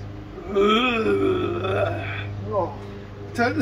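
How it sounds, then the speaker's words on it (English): A long, gurgling, voiced burp rolls out after drinking Sprite, loud and close, with a shorter burp near the end. "Definitely a burp."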